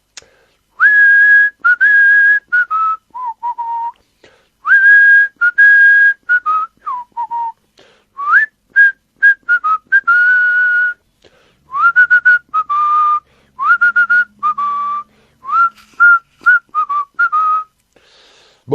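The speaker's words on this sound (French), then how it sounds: "Allez, encore un petit sifflement pour vous attendre." A person whistles a long melodic tune of repeated phrases, clear and close, with short pauses between bursts and no talking.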